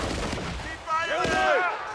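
Gunfire in the Xbox 360 shooter Battlefield: Bad Company, a dense rumbling spray of shots across the whole moment, with shouting voices over the firefight.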